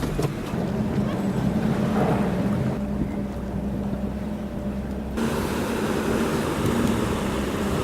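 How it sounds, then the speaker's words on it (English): Ferry crossing the bay from Sorrento to Queenscliff, with a steady low engine drone under rushing wind and water noise and gusts buffeting the microphone. "This ferry connects Sorrento to Queenscliff on the other side of the bay."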